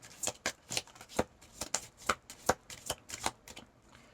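A deck of tarot cards shuffled by hand, with about a dozen crisp riffling bursts in an even rhythm, close and moderately quiet, with no talking.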